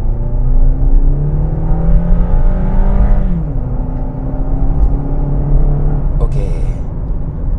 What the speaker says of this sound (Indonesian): Sekarang jalan depan sudah kosong, langsung aja kita akselerasi.